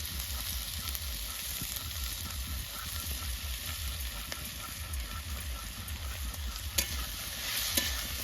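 A paste of dry chilli, ginger and cumin fries with cauliflower stems, salt and turmeric in a pan, giving a soft, continuous close sizzle with light stirring scrapes throughout and a couple of sharper clicks near the end.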